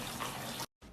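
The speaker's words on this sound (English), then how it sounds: "now I'm just draining them until the liquid that comes out is clear" Water runs steadily from a bowl of raw almonds that soaked overnight as they are drained. The flow is close and splashy, stops abruptly, then resumes more softly.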